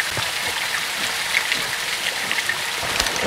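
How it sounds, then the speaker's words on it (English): Heavy rain in the video game Call of Duty Modern Warfare II pours down in a dense, steady hiss, with scattered drops pattering nearby. Nobody speaks. "It's raining fucking hard."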